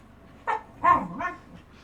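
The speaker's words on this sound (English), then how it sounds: "Just dog noises." A dog gives three short barks in quick succession, the middle one loudest, close by against a quiet background with no speech.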